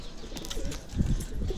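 Several pigeons kept in a homemade cage coo in low, throaty murmurs close by, with a louder burst of cooing midway over a rustling background, and no one speaks.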